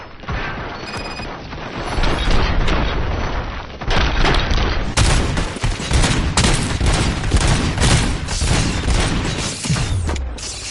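Loud sustained gunfire from the video game RoboCop Rogue City, with rapid automatic bursts and heavy booming impacts that crash and rattle continuously for about ten seconds.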